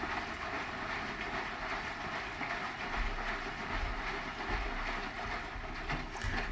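A Hotpoint HE7L492 washing machine drum tumbles at 80 RPM on a Cotton Standard 20 wash of darks. It gives a steady, close churning rumble with soft repeated thumps of the load.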